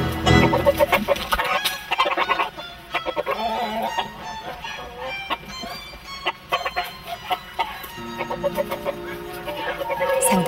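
A young rooster confronting a rat snake gives repeated clucks and short calls over a busy background of music and narration, the bird's sounds coming in irregular bursts throughout.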